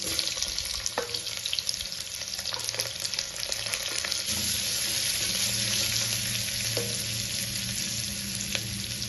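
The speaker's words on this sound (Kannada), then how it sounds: "ಆನಿಯನ್ ಗೋಲ್ಡನ್ ಬ್ರೌನ್ ಕಲರ್ ಬರೋ ತನಕ ಫ್ರೈ ಮಾಡ್ಕೋಬೇಕು." Onion and garlic fry in a pan for a mutton pepper fry, making a continuous close sizzle with occasional sharper crackles as the pieces are stirred.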